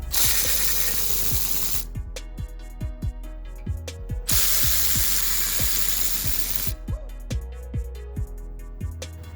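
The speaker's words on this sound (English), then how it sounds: "Now I'm going to use my electrical ratchet just to make my job easier." An electric ratchet runs in two long, loud bursts, spinning brake caliper bolts out on the front brakes of a 2015-2019 Acura TLX. Each burst ends in a rapid string of sharp clicks and ticks, and no one speaks.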